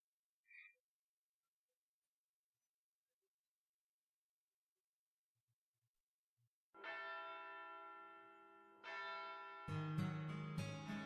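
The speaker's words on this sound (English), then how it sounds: "Tintagle's Bell of Pilgrimage, which I've been hearing constantly for 16 years, rings in the distance." A bell tolls in the distance, a crude, rough-toned pilgrimage bell heard in a fantasy story setting. Its ringing starts after a long near-silence, swells in layered, sustained tones and grows louder in two further strikes.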